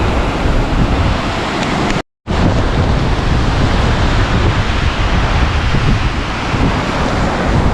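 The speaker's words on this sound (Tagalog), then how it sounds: "Lakas pa lang ng hangin guys." Strong storm wind roars loud and steady during a typhoon, gusting against the microphone with a constant wash like surf, broken by one brief dropout about two seconds in.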